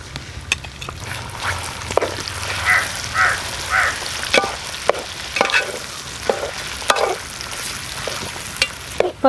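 A second batch of chicken fries in hot oil with a continuous sizzle and sharp stirring clacks, while crows caw faintly in the background.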